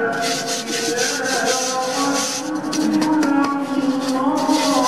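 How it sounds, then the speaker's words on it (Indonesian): Flour is spread evenly across a greased baking pan for a traditional jumbo sponge cake, making a steady close rubbing and scraping sound that continues without pause. "Terus tepung terigunya kita ratakan seperti ini ya."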